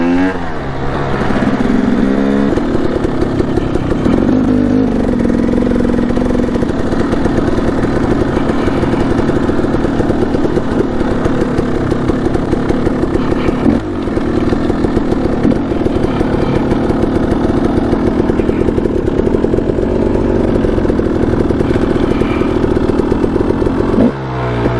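A Kawasaki KLX140RF dirt bike ridden on single track in Payson Canyon, Utah, drones loudly and close the whole time, its engine steady with small rises and dips in revs and no voices.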